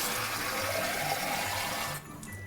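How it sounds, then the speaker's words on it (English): Hot water pours from a jar into a roux in a pan, a steady splashing gush for about two seconds that stops abruptly, leaving quiet kitchen room tone. "So then to this, I'm going to add hot water."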